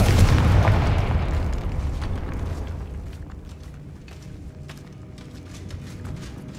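A Confringo blasting spell in Hogwarts Legacy sets off a loud, deep explosion at the start, and the boom slowly rumbles away into a quieter background with faint crackles.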